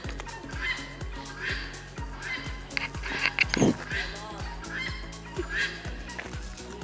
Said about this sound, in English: It's our friendly hen.